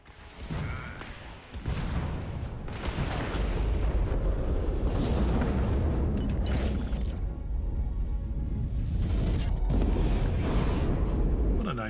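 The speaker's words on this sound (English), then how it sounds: "What a nice explosion." A ship blows up in the space game Starfield, a dense roaring explosion with rumbling booms and crackling debris that runs continuously and loudly for about twelve seconds.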